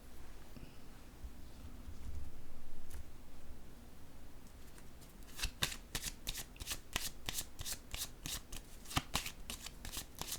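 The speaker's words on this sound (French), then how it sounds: "Je vais déposer une carte encore ici." Playing cards slapped down one after another onto a table during a reading, a quick run of crisp, close snaps and flicks that starts partway through and repeats at a steady rhythm.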